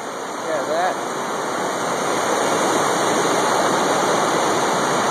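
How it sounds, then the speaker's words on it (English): River water flowing outdoors, a steady loud rushing wash that stays constant throughout, with a brief voice briefly audible near the start. "It's the river."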